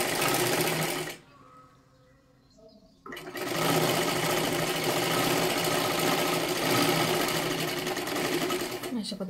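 Sewing machine stitching a princess-cut blouse, a loud close mechanical whir that runs, breaks off for about two seconds and then carries on steadily to the end.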